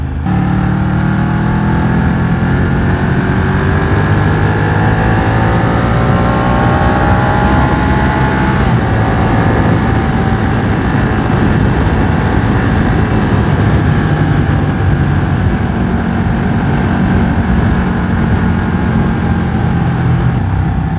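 A Ducati 1199 Panigale motorcycle engine runs loud and close for the whole stretch, its revs rising and easing in a continuous droning note.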